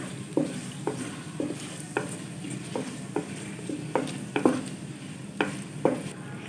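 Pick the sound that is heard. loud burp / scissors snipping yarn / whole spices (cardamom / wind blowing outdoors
whole spices (cardamom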